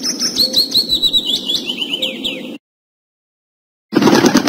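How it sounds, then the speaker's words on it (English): A bird chirps and tweets in a quick run of high, sliding notes over a busy low rumble. It stops abruptly, leaving silence, and then a burst of noise returns at the end. "Bird."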